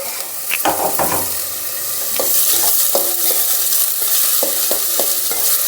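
Capsicum sautéing in a pan for gravy pasta, a steady close sizzle with repeated scraping stir strokes at an uneven rhythm, no voices.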